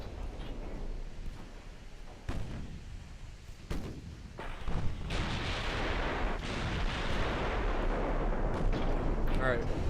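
Battleship main guns fire in the naval warfare game Ultimate Admiral Dreadnoughts, several heavy booming salvos and thuds spread through a rumbling battle ambience.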